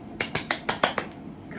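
About seven quick hand claps in an uneven run. They are sharp and close, then trail off into quiet.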